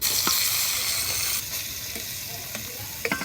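Greens dropped into a hot pan with garlic burst into a loud, dense sizzle that settles slightly after a second, joined by a few light stirring clicks near the end.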